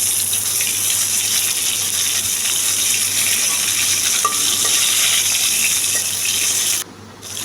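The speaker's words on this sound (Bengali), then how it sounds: "একটু লাল লাল করে ভেজে নেবেন" Surma fish fries in hot oil, turned to brown on both sides, giving a steady, close sizzle with stirring and spattering that runs continuously before dropping off sharply near the end.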